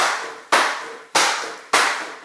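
Hockey puck passed too hard into a passing rebounder, four sharp, loud cracks about half a second apart, each like a hammer blow with a short ringing decay.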